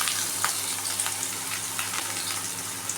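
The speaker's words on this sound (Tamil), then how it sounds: "ரெண்டு பெரிய வெங்காயம் கட் பண்ணி வச்சுருக்கேன் அதையும் சேர்த்து கொஞ்சம் கருவேப்பிலை" Onions and curry leaves frying in hot oil for a bitter gourd stir-fry, giving a steady close sizzle with scattered crackles and pops, no voices.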